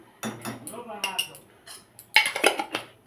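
Metal clinks and scrapes ring out as milk mixed with milk powder is stirred gently in a pot for rabri, a series of irregular knocks and clatters with quiet background noise between them.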